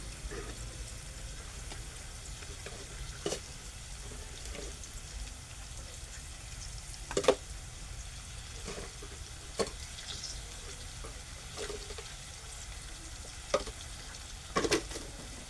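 Onion frying in a pan with a steady low sizzle, broken by occasional sharp clinks and scrapes of a spoon stirring, for a dry soybean vegetable dish.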